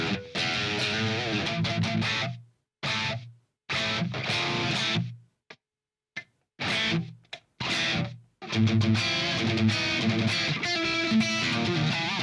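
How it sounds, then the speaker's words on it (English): A heavily distorted electric guitar plays loud, chugging riffs cut by abrupt silences, then rings out in sustained, saturated chords. "So that's loads of distortion, loads of gain."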